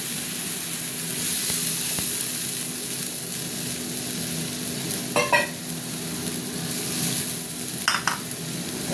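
A spice paste sizzles steadily in a frying pan as it is stirred, a constant hiss broken by two short bursts of utensil scraping against the pan.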